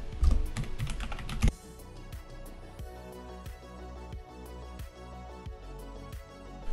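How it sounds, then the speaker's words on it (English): Keys clack on a computer keyboard as a terminal command is typed on a Raspberry Pi, a loud burst of rapid strokes at first, then steady separate keypresses close to the mic, with no talking. "Let's type in sudo app upgrade."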